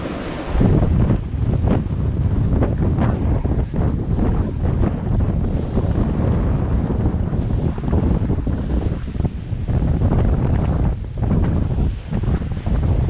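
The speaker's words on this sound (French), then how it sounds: "on a un bon vent de ouest-nord-ouest" A steady west-northwest wind buffets the microphone aboard a sailing boat at sea between Gambia and Casamance, a loud continuous roar mixed with rushing water and waves, with no voices.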